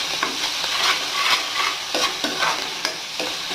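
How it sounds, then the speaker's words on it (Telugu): Spices tempering in hot oil for upma in a home kitchen, a loud continuous sizzle broken by repeated stirring scrapes in an irregular rhythm, with no talk. "తాలింపు వేస్తున్నా ఉప్మా."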